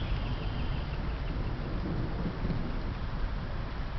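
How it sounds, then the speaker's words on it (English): Steady loud rain and deep rolling thunder in a lightning storm outdoors in East Haven, a continuous wash of noise with no clear breaks or voices. "Yeah, it's raining."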